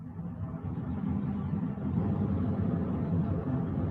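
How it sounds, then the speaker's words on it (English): A steady low rumbling hum of a heating or air conditioning unit running, constant and fairly loud throughout with no talking. "now what you're hearing is their heat or AC unit kicks on"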